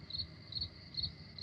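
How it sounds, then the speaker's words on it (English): Crickets chirp in a steady, even rhythm at a night-time farmhouse in the horror film Night of the Living Dead, the pulses clear and alone with no voices. "Crickets."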